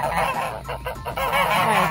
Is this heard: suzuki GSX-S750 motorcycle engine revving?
no